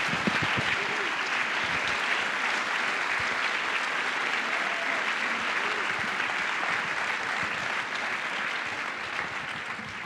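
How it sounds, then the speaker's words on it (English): A large audience applauds the team at the opening ceremony of the 54th Directors' Fortnight film festival: a dense, sustained roar of clapping filling the hall, holding steady and easing slightly near the end. "On peut les applaudir."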